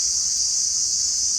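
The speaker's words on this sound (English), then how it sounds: "crickets are loud." Loud, steady cricket chirping fills the air as a continuous high, shrill trill with no other sounds.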